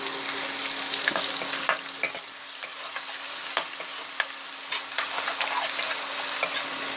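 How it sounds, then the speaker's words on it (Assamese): Ginger-garlic paste fries in hot oil with chopped onion for a coconut-milk fish curry, giving a steady, bright sizzle that continues throughout, punctuated by soft clicks of stirring in the pan, with no voices. "আদা নহৰু পেষ্টখিনি দিয়াৰ পাছত 2 ছেকেণ্ডমান ভাজি থাকিব"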